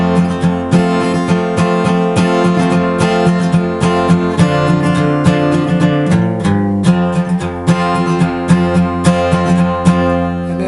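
Acoustic guitar strumming chords, a loud, close, rhythmic pattern of bright down-and-up strums with a brief bass-note walk midway, played alone without voices.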